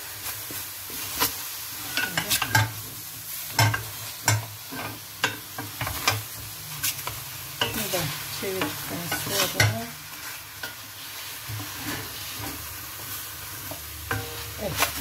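Meat sears in a hot pan, a steady close sizzle and frying crackle broken by repeated scraping and clinking as a fork turns the pieces, with no talk.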